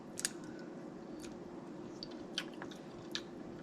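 Crisp snipping and cracking as scissors cut open snow crab leg shells, a few sharp close clicks spaced apart over a quiet background with no talking.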